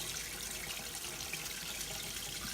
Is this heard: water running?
yes